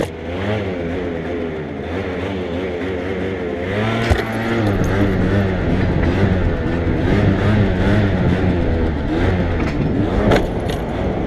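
An MBK Stunt / Yamaha Slider Street Zone scooter engine revs hard during a wheelie, a loud buzzing two-stroke whine that rises and wavers in pitch, held continuously with brief surges.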